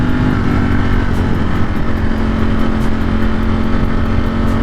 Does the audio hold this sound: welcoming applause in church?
no